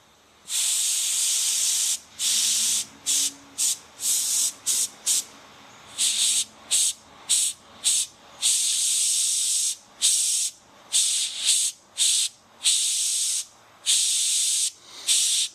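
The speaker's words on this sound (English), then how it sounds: "Let me get this in the airbrush and I'll be right back." Airbrush spraying paint onto a Kaldor Draigo miniature, with repeated hissing bursts of varying length separated by short pauses, close and steady, with no talking.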